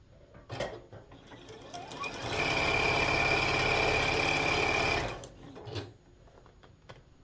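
A sewing machine stitching quilt patches into a four-patch block runs in one steady, loud burst of about three seconds, with quieter handling and fabric sounds before and after.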